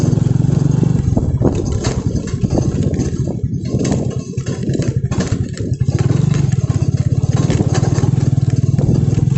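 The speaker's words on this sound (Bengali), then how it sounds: "ছোট্ট রাস্তা দিয়ে বাইক চালাবো" A motorcycle engine on a small, broken, risky village road runs loud and close, with a steady idle-like throb that roughens and varies in the middle before settling again.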